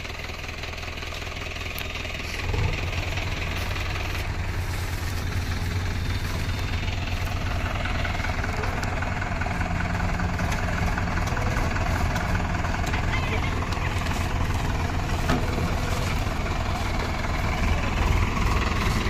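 Tractor engines idle and rumble steadily while pulling a sugarcane trailer stuck fast, a continuous, loud, close mechanical drone with faint voices in the background.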